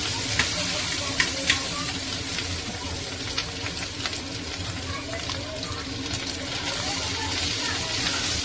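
Fried egg with pasta sizzling loudly in a hot pan, a dense continuous crackle up close with occasional sharper pops and stirring noises.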